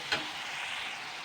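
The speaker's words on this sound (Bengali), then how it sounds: "পেঁয়াজটা সুন্দর ভাজা হয়ে গেছে।" Onion and tomato frying in oil in a pan for a Bengali rui fish curry with yam, giving a steady close sizzle with a brief louder stir-like burst at the start.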